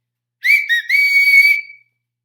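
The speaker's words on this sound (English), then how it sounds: "Have you guys heard my whistle?" A person whistles a short signal call outdoors: a few quick bright chirps followed by a longer sustained tone that slides and trails off, loud and close against silence.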